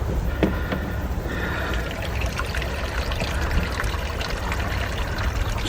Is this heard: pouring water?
yes